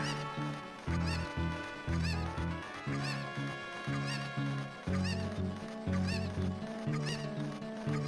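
Chickens cluck in Ocarina of Time 3D, with short repeated calls about once a second over loud, rhythmic game music with a steady bass beat.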